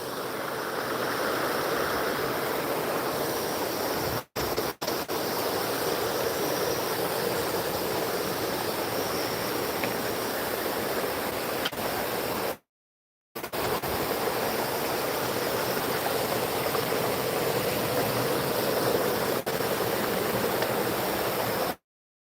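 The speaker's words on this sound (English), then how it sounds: "Waterfall." River waterfall pouring in a steady, dense broadband rush, close and loud, with two brief dropouts.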